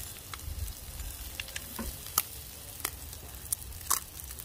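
Crumbled store-bought chorizo links frying on a hot flat griddle, a steady soft sizzle with scattered sharp pops and crackles, close and moderate, no talking.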